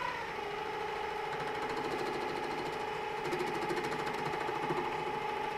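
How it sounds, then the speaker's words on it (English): A metal lathe takes a facing cut across the end of the stock with a cutter, giving a steady, fairly quiet mechanical drone with a fine rapid chatter running through it, with no talking. "I'm going to flip around to the other cutter and face it off"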